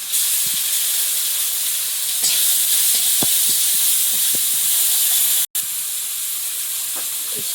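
Panch phoron and garlic sizzling in hot oil, a bright steady hiss and crackle with scattered small pops and one abrupt cut near the end, no voices.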